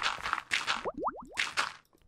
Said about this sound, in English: Bubbles sounds.